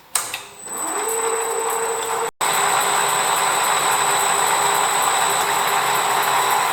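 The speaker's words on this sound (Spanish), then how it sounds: "Ahora le voy a hacer aquí con la broca de hacer puntos, le haré un puntico en el centro" A lathe runs with a center drill marking a center point on a workpiece, giving a loud, steady motor whine and hum close by, broken by one brief cutout.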